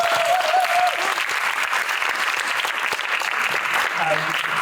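An audience at a 2024 ADAM Kitchen presentation gives sustained, dense applause for two presenters, a steady wash of many hands with a voice briefly heard over it near the start and end.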